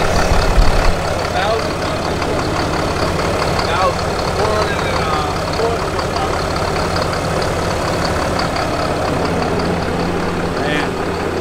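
A heavy-duty diesel pickup truck idles loudly and steadily up close outdoors on a cold day, a continuous low rumble with clatter that never lets up.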